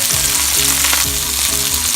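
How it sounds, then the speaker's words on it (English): Pork chops sear in a hot frying pan with a steady, loud sizzle that fills the whole stretch, plus faint low knocks from the pan. "And get those turned over. Just trying to sear them, get a little color on them."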